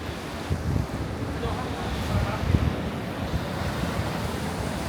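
Surf rolls onto a small secluded beach at Gunung Payung, Bali, a steady close wash of breaking waves mixed with wind buffeting the microphone.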